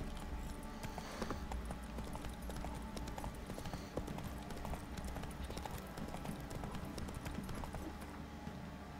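A horse's hooves clip-clop steadily in The Witcher 3, a continuous rhythmic trotting beat under faint game ambience, with no talk over it.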